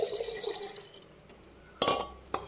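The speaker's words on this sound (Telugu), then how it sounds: "వాటర్ వేసుకొని" Water pours into a pan while pudina rice is cooked, a short hissing splash that fades, then two sharp clinks of glass or metal near the end.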